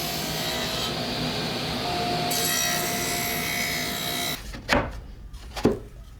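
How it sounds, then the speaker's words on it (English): A table saw cuts rabbets into wooden frame pieces for a folding Lego table, a steady close whine and cutting roar running for several seconds before winding down, followed by a couple of brief knocks as the workpiece is handled. "I'm going to cut the rabbets in the frame pieces that will accept the top"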